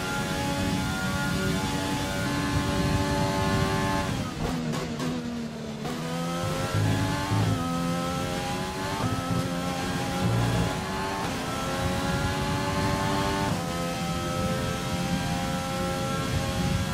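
A Formula 1 car's engine with slight wear racing in F1 2020, screaming loud and steady, pitch sweeping down on a brief lift then rising again through upshifts.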